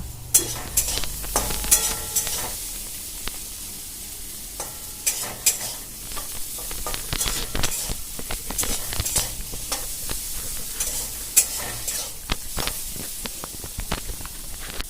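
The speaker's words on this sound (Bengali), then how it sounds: "বেগুনটা যখন লাল লাল ভাজা হয়ে যাবে আমি একটা পাত্রে বেগুনটাকে তুলে নেব" Steady sizzling of eggplant frying in a pan, with scattered sharp spits and clinks of stirring throughout; no talking.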